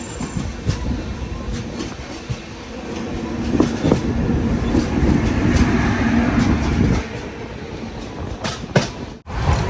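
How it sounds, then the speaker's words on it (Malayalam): The Netravati Express sleeper train running at 110 km/h, heard from inside as a steady rumbling roar with rhythmic wheel clatter and occasional squeals, continuous and fairly loud with no voices. "ട്രെയിൻ ഇപ്പം 110 km/h സ്പീഡിലാണ് പോയിക്കൊണ്ടിരിക്കുന്നത്."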